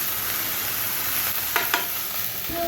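Vegetable bhaji with turmeric frying in a pan, a steady loud sizzle with a couple of sharp scraping stirs near the end, close up and without speech.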